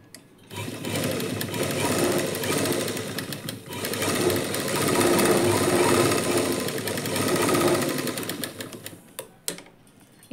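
A sewing machine runs in bursts, stitching the lining of a blouse, with a rapid mechanical whirr that rises and pauses a few times and ends in short separate clicks.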